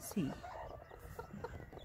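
A broody farm hen gives a few soft clucks and a short throaty call, close by and fairly quiet.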